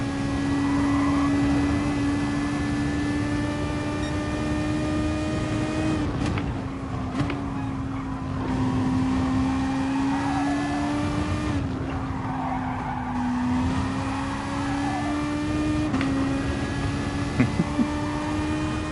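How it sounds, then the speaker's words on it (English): A car floored in a low gear roars with a steady, droning engine note and a thin, strange whistle riding on top. It holds for nearly twenty seconds at a constant loud level, with small pitch dips and no talking. "So when you come down to the lower gears and then floor it, it does this"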